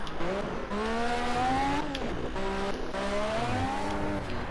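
A 1980s Formula 1 car in Project CARS screams steadily at high revs, its engine pitch rising through gears, dipping at a shift and climbing again, loud and close with no talking.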